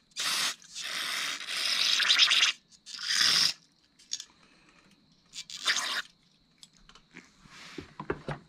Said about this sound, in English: Might hit this with a little bit of carb cleaner before we put it in the ultrasonic cleaner.